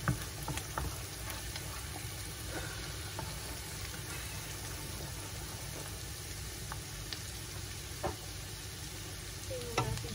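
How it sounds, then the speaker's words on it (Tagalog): Seafood pasta sizzles in a frying pan while being stirred, a continuous close crackling fry with intermittent scraping and clinking of the utensil against the pan. "Tapos itong sa kawali, i-mix lang natin siya hanggang maluto."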